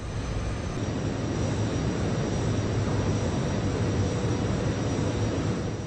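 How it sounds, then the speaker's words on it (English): Fighter jet engine on full afterburner in the flight game Over G Fighters: a loud, unbroken broadband roar that holds steady throughout with no breaks or other sounds. "Anything above 100 engages the afterburner."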